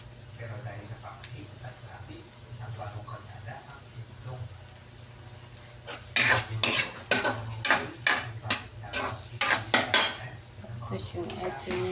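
Vegetables sautéing in a pan, a low sizzle with a background hum, then a run of loud, rhythmic metallic scrapes and clatters of a utensil stirring against the pan, with speech partly underneath.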